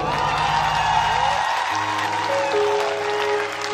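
A live-show audience at Central University Mahendergarh, during a performance, breaks into loud, sustained applause and crowd noise over steady background music, continuing throughout.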